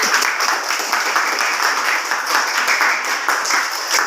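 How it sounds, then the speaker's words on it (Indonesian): A class of students applauds in a classroom, steady close clapping sustained at an even level throughout with no talk over it. "Ya, tepuk tangan untuk semuanya."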